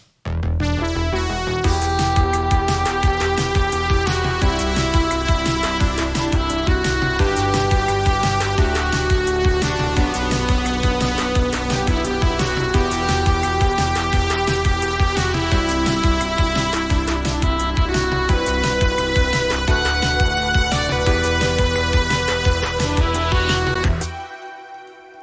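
Layered synthesizer chords from Ableton's Operator synth play steadily and loudly for about 24 seconds, forming the harmonic foundation of a track, with no talking, then cut off abruptly.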